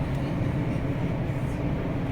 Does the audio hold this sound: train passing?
yes